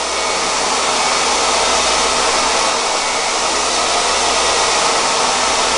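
A blow dryer runs at a steady, loud whoosh while hair is styled with a round brush for volume, the airflow constant and close throughout with no talking.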